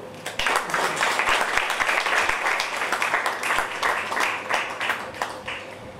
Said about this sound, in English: Let's have a big round of applause once again.